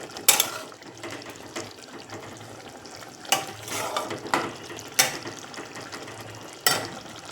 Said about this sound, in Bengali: এবার ভালো করে নাড়িয়ে নিচ্ছি আমি